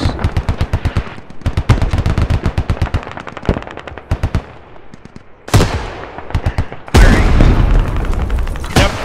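Bursts of rapid automatic gunfire in the military shooter Squad, with loud close rattling volleys, pauses between strings of shots, and heavy booming blasts near the end.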